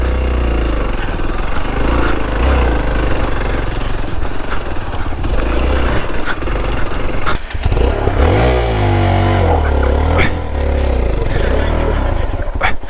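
A Hero Xpulse 200 4V motorcycle climbs a steep rocky incline trail, its engine loud and close, revving and labouring with rising and falling pitch and clattering over rocks.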